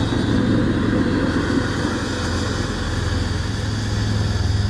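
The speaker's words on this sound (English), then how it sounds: "Fires off the turbine. Little blinky blinky tells me that it's in the process of starting up." Turbine engine of an MD600N RC helicopter starting up outdoors in cold, breezy weather, a loud, dense, continuous roar with a steady whine layered on top, close and unbroken throughout.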